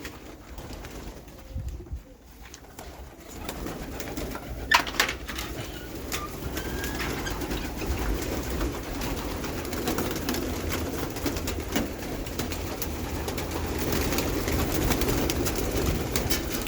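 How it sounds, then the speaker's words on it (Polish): Soft pigeon coos inside a loft over a dull background rumble, with occasional faint wing flutters and rustles; no talking. "Gołębie smutne."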